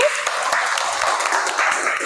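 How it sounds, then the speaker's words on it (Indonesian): A Grade 11 science class of students claps together in their classroom, a dense, steady patter of hands at moderate loudness that holds evenly for a couple of seconds. "Beri tepuk tangan buat kelas ini."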